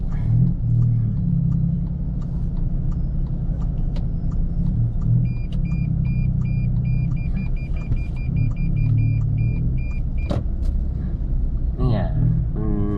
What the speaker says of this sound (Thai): ทำให้รถติดนะครับตรงนี้